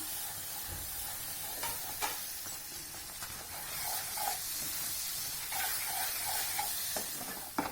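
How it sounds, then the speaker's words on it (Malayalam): A thick rava laddu mixture with ground coconut is stirred in a pan, giving a continuous low hiss and soft sizzle with repeated quiet scraping strokes, close and without speech. "നമ്മൾ പൊടിച്ചു വെച്ച നാളികേരം കൂടി ചേർക്കാം നന്നായിട്ടൊന്ന് മിക്സ് ചെയ്യാം"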